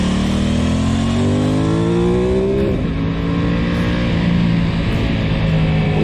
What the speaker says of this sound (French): C'est le twin parallèle de 660 cm3, calé à 270 degrés, ce qui lui donne un véritable caractère moteur et un véritable son très spécifique.